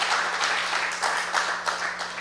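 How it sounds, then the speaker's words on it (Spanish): A church congregation applauds in a steady, moderately loud wash of clapping with a few swelling bursts, continuing throughout without talk. "Dele un buen aplauso al Señor"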